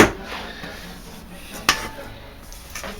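Metal clatter as an ungreased aluminum 10-inch tube pan, an angel food pan, is handled in a kitchen, with a sharp knock near the middle and light scrapes around it. Low background noise runs throughout.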